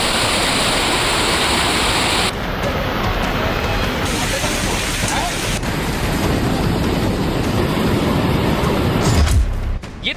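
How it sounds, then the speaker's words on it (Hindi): Strong floodwater rushing across a road in Bhopal, a loud, continuous broadband roar of churning water that fills the whole stretch without a break, with a few brief bumps and knocks toward the end. "पानी का बहाव इतना तेज था कि स्कूल की गाड़ी को भी वो अपने साथ बहा ले गया।"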